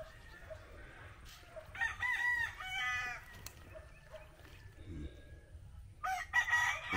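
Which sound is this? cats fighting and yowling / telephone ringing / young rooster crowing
young rooster crowing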